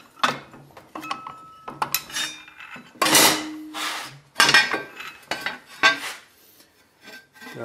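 Holes are being punched in 2.5 mm 30KhGSA steel for a helmet visor, giving sharp metallic clanks and clinks in irregular bursts, close up, with short pauses between strikes.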